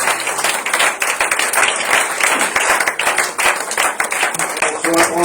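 A church congregation claps and applauds together at a Sunday worship service, a dense, steady wash of hand claps sustained throughout, with scattered voices mixed into the crowd.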